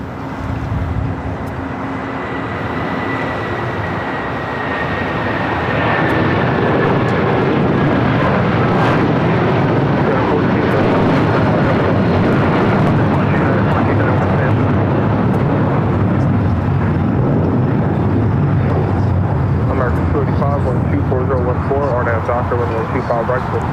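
An Airbus A330neo arriving at LAX from Salt Lake City gives a jet rumble that swells after a few seconds into a loud, steady roar with a descending whine, under ongoing talk.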